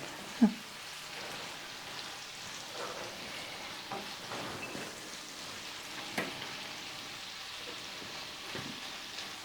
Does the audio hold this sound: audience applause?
no